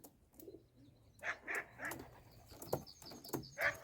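Sport pigeons in a pigeon loft give a series of soft rolling coos, about six pulsing calls at a steady, unhurried rhythm, close by and fairly quiet, with no voices present.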